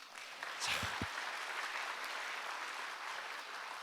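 A church congregation claps together during a service, a soft, steady patter of many hands heard from a distance with a couple of brief low thumps early on and no speech.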